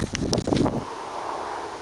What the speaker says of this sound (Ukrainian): Бо вітер.